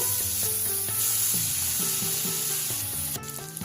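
Ginger garlic paste with cumin and cloves fries in a pan for a fish korma, making a steady loud sizzle with occasional stirring scrapes over background music.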